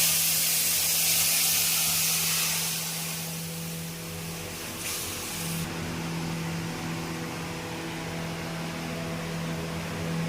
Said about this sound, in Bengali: এইবার একটু ফোড়ন দেওয়ার পালা। ফোড়ন দেওয়ার সময় এখানে দিল জিরের গুঁড়ো